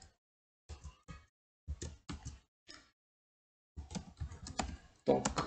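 Bursts of clicky computer-keyboard typing as HTML code is entered, short clusters of keystrokes separated by pauses, close and moderately loud, with no talking.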